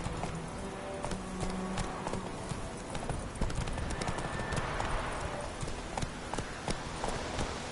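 A horse gallops in The Witcher 3 video game, its hooves beating out a quick, steady, close clip-clop rhythm that runs throughout, with no speech.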